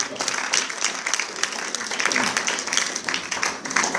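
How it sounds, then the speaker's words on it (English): An audience applauds during a thank-you speech, sustained clapping from many hands with steady sharp claps, moderately loud with murmuring voices beneath. "let's give you a round of applause for you just being here"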